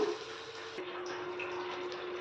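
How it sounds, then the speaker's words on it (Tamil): Tamarind water pours steadily into a pan, a soft continuous trickle with a light splash partway through, close by and fairly quiet. "புளி தண்ணி கரைச்சாச்சுங்க. இப்போ சேர்த்துக்கலாம்."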